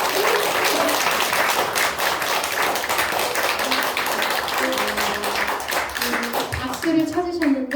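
A church congregation applauds during an afternoon service, dense sustained clapping that fills the room, with voices rising near the end.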